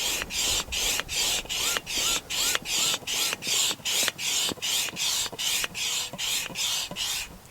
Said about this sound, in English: I'm going to pump it up right in front of you, and it doesn't take long to pump up